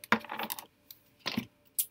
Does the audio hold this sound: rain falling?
no